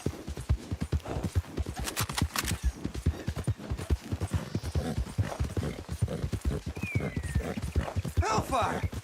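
A horse gallops in a video game with rapid, steady hoofbeats, and a brief whinny near the end, while a person talks over it throughout.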